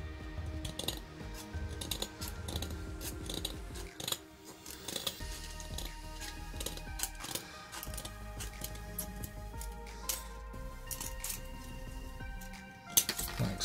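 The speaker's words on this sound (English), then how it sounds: "this thin strip of metal is quite flexible, and you can cut it with a pair of scissors" Scissors snip through a thin, flexible metal strip used for a headband on DIY custom soldier figures, giving a dense run of sharp clicks and metallic clinks, close and fairly quiet, with no talking.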